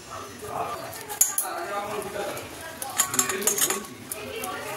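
Gram flour batter being whisked in a bowl, spiced with cumin and coriander powder: a busy run of quick clinks and scraping taps against the bowl, loudest in short bursts, with a voice talking over it.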